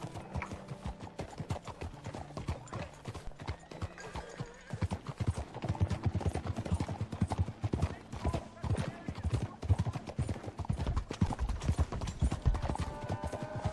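Horse hooves clip-clop at a steady galloping rhythm in Red Dead Redemption 2, growing louder and denser partway through, with a low game score and occasional character speech over it.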